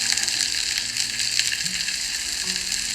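Sliced onions sauté in butter with garlic in a hot pan, a steady, close sizzling hiss with faint scraping, and no voices.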